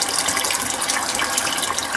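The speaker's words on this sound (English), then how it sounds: "Then I'll start adding some cool water to that." Cool tap water gushes steadily into a pot of hot boiled eggs, a close, continuous bright splashing stream.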